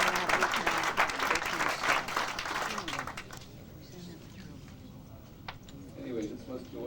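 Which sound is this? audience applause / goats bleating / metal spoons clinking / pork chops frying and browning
audience applause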